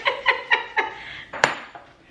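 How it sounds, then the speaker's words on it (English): Two cups of oats go into a granola mix: four evenly spaced bright clinks of a cup against a bowl, then a sharper, louder clink after a short pause. "So now I'm adding in 2 cups of oats."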